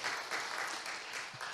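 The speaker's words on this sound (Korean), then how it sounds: "박수로 우리 청년들한테 격려하고 주님께 감사의 마음을 표현하겠습니다" A church congregation at a Sunday service claps in steady, moderately distant applause that fills the room briefly.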